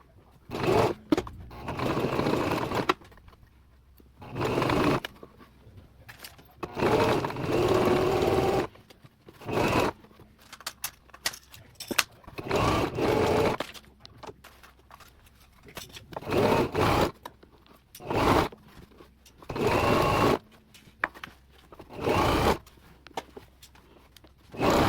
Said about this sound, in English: So let's go ahead and get to sewing.